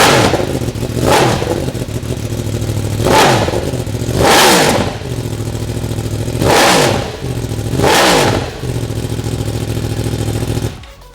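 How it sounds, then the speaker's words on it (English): A motorbike engine idles loud and close, then is revved hard about five times in a steady rhythm, each rev rising into a throaty roar before dropping back to a rough idle. "Kelvin, do you want to come and start the motorbike for us?"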